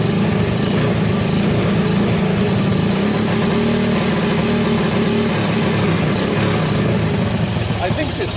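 A 1984 Honda ATC 200S three-wheeled ATV, a cheap swap-meet buy, runs and smokes, its small engine droning loud and steady from start to finish with a raspy, mower-like tone and close, wind-buffeted texture.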